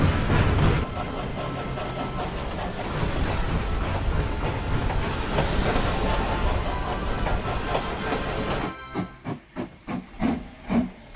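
Two steam engines hiss and chuff as they set off together up a hill, a loud sustained rush of steam with rumbling wheels, ending in slow distinct puffs that grow sharper and more spaced.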